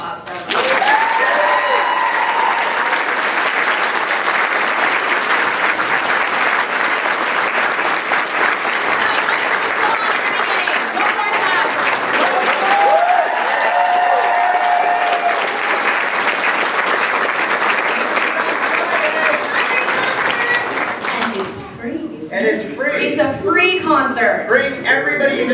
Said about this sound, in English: All right, how about everybody joining me in a round of applause for us?